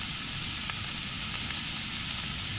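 Mince and onion frying in a pan at a rainy campsite, a steady soft sizzle that runs on without a break, fairly faint, with no voices over it.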